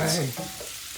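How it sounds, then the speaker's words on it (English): Mushrooms frying in a pan for a pork medallion in mushroom cream sauce, a brief close sizzle and crackle, heard alone. "These are going to cook up for about 3 to 4 minutes."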